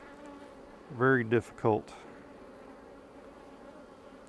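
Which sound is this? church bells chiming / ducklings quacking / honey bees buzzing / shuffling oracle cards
honey bees buzzing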